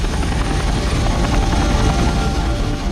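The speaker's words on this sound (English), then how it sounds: "the helicopters flew more than 500 miles into Iran" Military helicopters fly low from an aircraft carrier in the Arabian Sea toward Iran, their rotors making a loud, steady, unbroken roar with no voices.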